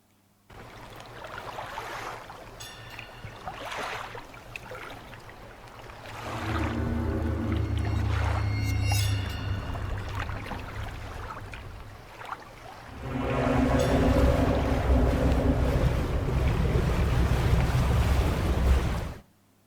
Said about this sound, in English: here's an example of the mirror monster shifting from idle to aggro state.